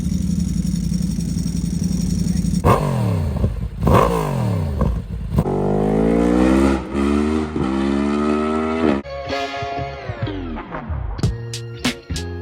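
A Yamaha MT10 motorcycle with an Akrapovic exhaust at a bike night, heard near and loud as it revs up through rising gears, then rushes past and fades, followed by a few sharp throttle blips.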